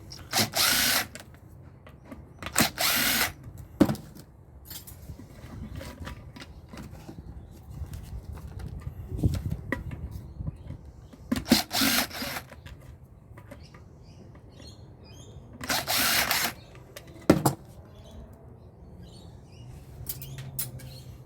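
A power drill backing screws out of a scrapped cast alloy light fitting, several short loud bursts of whirring spaced across the stretch with quiet handling and rustling between them.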